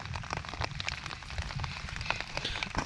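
Steady rain pours during a storm at a fishing spot, with dense drops pattering on surfaces throughout, close and continuous with no talking.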